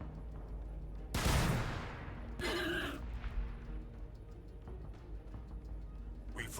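Gunfire in the Warhammer 40k Battlesector video game: two loud bursts of weapon fire about a second apart, the first a sharp explosive blast, the second a rattling volley, over a low battlefield rumble.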